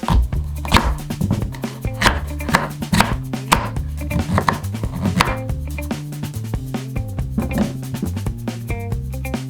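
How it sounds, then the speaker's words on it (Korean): A knife chops potatoes into six pieces on a cutting board for Korean braised spicy chicken, giving a steady run of sharp, close chopping strikes over soft background music. "감자는 6등분을 해주고요"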